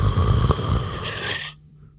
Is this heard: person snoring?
yes